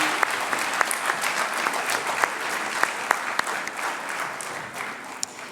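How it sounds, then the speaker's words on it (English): An audience at a school orchestra concert claps for the chamber group, a moderate, steady patter of many hands with a few sharper individual claps standing out, no voices over it. "So round of applause for our amazing chamber group."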